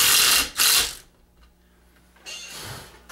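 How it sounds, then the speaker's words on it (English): A small rattle gun impact wrench runs on bolts of a 3hp Briggs engine, giving two loud close bursts of buzzing and rattling, a quiet gap, then another longer burst. "This is my little rattle gun I was telling you all about."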